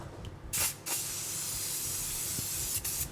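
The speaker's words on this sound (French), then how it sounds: "Vous pouvez aller allègrement avec la bombe de graisse" Cooking grease sprays from an aerosol can into a tart tin, a close, steady hissing spray running almost continuously with brief louder bursts at the start and near the end.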